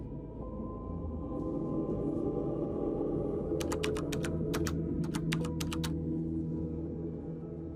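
Typing on a computer keyboard, a quick run of crisp key clicks in short clustered bursts, close and fairly clear over a low steady room hum.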